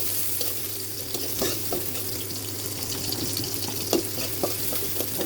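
Onions frying in oil in a wok, a continuous hissing sizzle with scattered pops and stirring scrapes, steady and fairly close.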